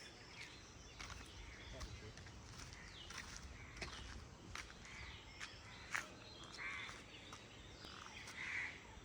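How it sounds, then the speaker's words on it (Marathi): Around 7:15 in a Konkan village near Sangameshwar, faint bird calls and distant crow caws come in scattered bursts over a low, steady outdoor background hiss. "पक्ष्यांचा किलबिलाट बघा मस्त एकदम आवाज."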